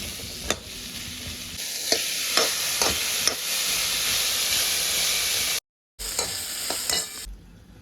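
Bottle gourd mixture roasts in hot oil while being stirred, giving a loud, dense sizzle with scattered scraping clicks, a brief total dropout near the end, then the frying resumes before fading.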